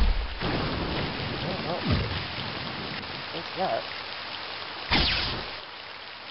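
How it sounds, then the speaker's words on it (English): Storm arrow thunderstorm spell in the video game Heretic II, a continuous rain-like rushing roar with low thunderous rumbles and a sharp crack near the end, a voice briefly speaking over it. "That is storm arrow."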